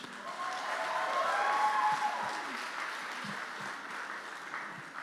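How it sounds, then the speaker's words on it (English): Wedding guests applauding Hannah and Josh, a moderate, sustained round of clapping from a gathered group that swells slightly then stays even, with faint murmurs underneath. "So maybe a round of applause for Hannah and Josh"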